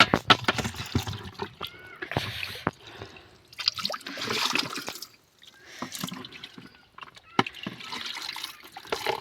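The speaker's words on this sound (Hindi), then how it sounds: "ये रहा हमारे धारा, और धारे में आजकल ठंडा ठंडा पानी आता है।" Cold water from a mountain spring runs and splashes in uneven gushes and drips, close and moderately loud, with brief pauses between surges and no voices.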